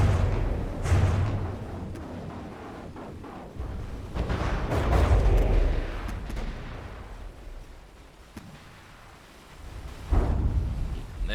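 A warship turret destroyed by naval gunfire in a combined-fleet video game, with repeated heavy booming blasts and rumbling explosions, rising and fading close by over a dense battle background.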